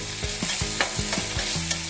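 Okra fries in a pan, sizzling steadily while a spatula scrapes and stirs it in quick, regular strokes close by.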